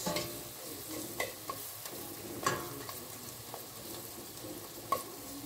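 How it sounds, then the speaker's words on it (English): Masala with roughly crushed garlic frying in a pan for a beans curry, a quiet continuous sizzle broken by several spoon scrapes and clinks against the pan. "I will let it, my masala to fry."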